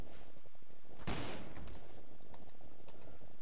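Desert Eagle pistol fire in Garry's Mod, with a burst of loud, close shots around the first second and further sharp reports scattered through a dense, busy game soundscape.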